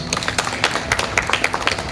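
A crowd claps in a brief burst of applause, many hands beating quickly and unevenly at close range.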